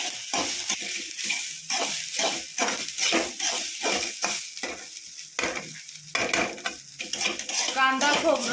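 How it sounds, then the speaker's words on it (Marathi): Coconut, onion, garlic and ginger roast in a pan for a village-style chicken curry, with a loud, dry sizzle and repeated scraping strokes of a spatula against the metal in an uneven rhythm, close up and without talk. "खोबरं चांगलं लाल होईपर्यंत भाजून घ्यायचंय."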